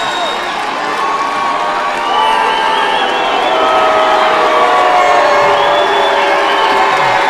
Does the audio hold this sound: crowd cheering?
yes